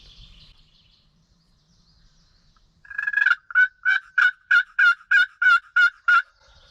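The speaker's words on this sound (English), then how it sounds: "After getting this gobbler to respond, and he was close" A loud, close wild turkey gobble: a rapid rattling burst of about ten throaty pulses, preceded by faint distant sound and near silence.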